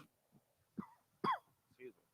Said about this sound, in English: Coughing on camera.